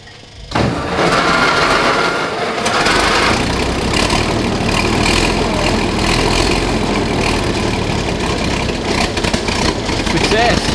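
A WWII German Panzer 38(t) light tank engine cranks and catches after a short pause, then settles into a loud, rough, steady idle close by, with people speaking faintly beneath it.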